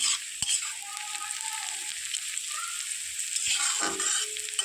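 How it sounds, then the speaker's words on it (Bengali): Onions frying in hot oil for a mutton curry, a steady close sizzle with a few stirring scrapes and clinks of a utensil against the pan. "পেঁয়াজটা তেলে ভাজছি"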